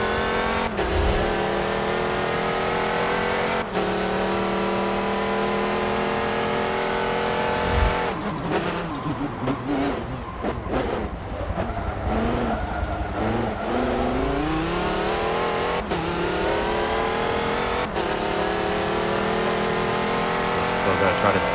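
A race car engine in Forza Motorsport 7 at Sebring drones loud and steady through gear changes, with repeated revving up and down and some tire noise in the middle stretch.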